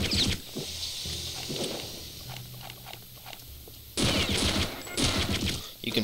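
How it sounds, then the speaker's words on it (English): Sten submachine gun firing in Return to Castle Wolfenstein, loud rapid bursts of automatic fire at the start and again in the last two seconds, with quieter game sounds between. "You can fire 10 shots at the Sten before it overheats."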